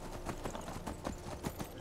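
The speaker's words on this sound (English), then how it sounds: "Oh, you're actually riding your horse this time." Horse hooves clip-clop at a steady walking rhythm while riding in modded Skyrim, evenly spaced thuds standing out clearly over a low, faint background.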